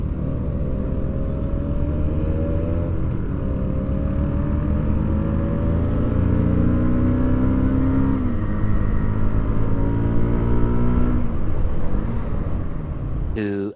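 A motorcycle engine runs loud and close, its steady drone rising and sliding in pitch as it revs, then dropping off near the end.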